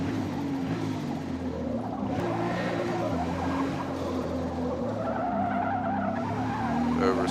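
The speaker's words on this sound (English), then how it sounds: "Oversteer." Race car in Forza Motorsport sliding sideways in an oversteer skid, a continuous loud engine drone with tire squeal and skidding noise running steadily throughout, close and unbroken.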